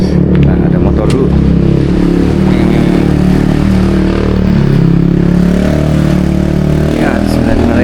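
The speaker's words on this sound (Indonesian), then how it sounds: "Nah, ada motor dulu." A motorcycle engine runs close and loud on a mountain trail at the start of a hike on Mount Gede, a continuous droning rumble throughout, with people's voices mixed in underneath.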